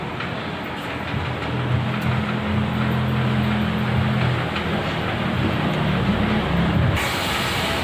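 A steady, loud sizzling hiss of cumin seeds frying in hot oil for a tadka, continuous throughout with a low hum underneath, ending abruptly.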